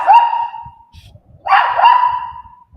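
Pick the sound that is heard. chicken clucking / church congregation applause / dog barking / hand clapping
dog barking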